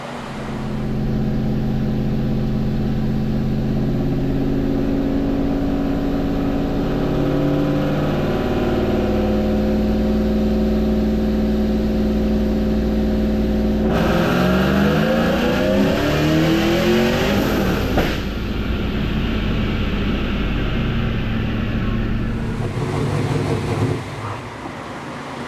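A procharged 2001 Pontiac Trans Am roars on a dyno, its engine held at a loud steady drone before climbing through a hard rev with a rising pitch sweep, then settling back near the end.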